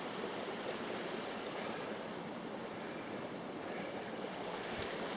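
A creek runs past a beaver dam in woodland, giving a steady, soft rushing and babbling of water that continues evenly throughout with no voices.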